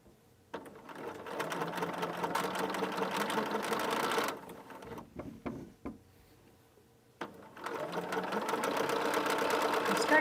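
A sewing machine stitches quilt seams for a scrappy chevron quilt in two long, steady whirring runs with a short pause between them filled with small handling clicks as the thread is broken.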